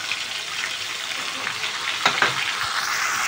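A spice paste of ground onion and tomato sizzles steadily in a hot pan as it is stirred, with brief scraping strokes partway through, no talk.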